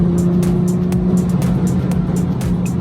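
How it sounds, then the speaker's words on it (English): BMW F30 340i with an xHP stage 3 transmission tune, driven in sport mode: a steady, close engine drone from inside the car with light rhythmic ticking over it, no voices. "Start in sport real quick. It drops down gears immediately. Give it some gas and it drops a gear."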